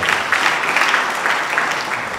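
A crowd at a movie release party claps in a steady burst of applause that fills the room, with no clear voices above it and the level holding fairly even from start to end.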